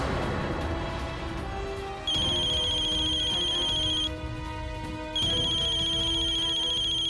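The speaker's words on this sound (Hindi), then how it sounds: "भोला जी के फोन, वो भी यही समय।" A phone ringtone plays loudly in a repeating electronic melody, cycling through its pattern twice with a short break between.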